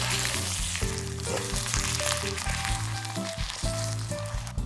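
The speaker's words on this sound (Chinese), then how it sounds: "然后放入腌制过的肘子，翻动一下，让肘子的表面裹满糖浆，再煎制一会儿" A marinated pork knuckle sears in caramelised rock sugar syrup with a dense, bright sizzle. Steady background music plays over it.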